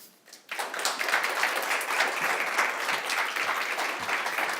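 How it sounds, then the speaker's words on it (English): An audience applauds Nick Thompson, a raw-feeding speaker at a dog education talk, with sustained clapping that swells after a brief quiet start and stays steady and dense to the end. "Round of applause for Nick Thompson."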